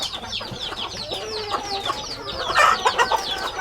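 An Aseel rooster clucks in a run of short, close, repeated calls, with faint chirps of other birds in the background.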